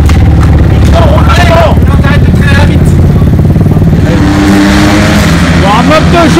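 A racing motorcycle is revved during a warm-up in hot weather in Brittany: a loud, close engine rising and falling in pitch with rattly clatter, while voices talk over it.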